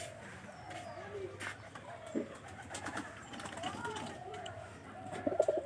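Pigeons coo softly and intermittently while they pull straw for a nest indoors, with quiet rustling and a few brief chirps amid faint background noise.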